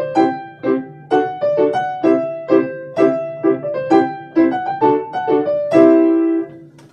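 A solo piano plays the main Doctor Puppet theme, a bouncy melody of evenly spaced struck notes over a sustained low tone, ending on a held, ringing chord, clear and close.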